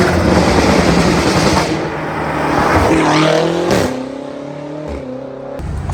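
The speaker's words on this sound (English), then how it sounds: "I think that's the pops and bangs sorted" Tuned Stage 2 BMW M5 Competition revving loudly up close, its exhaust drone rising and falling, with a few sharp crackling pops and bangs near the end.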